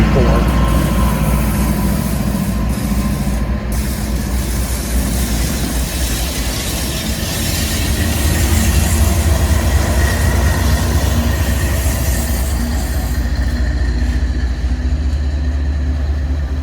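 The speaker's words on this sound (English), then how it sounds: "These are just some locomotives being moved around the yard." Union Pacific locomotives shifting around a rail yard, a loud, steady diesel engine rumble with rolling wheels and faint metallic squeals, constant and close throughout.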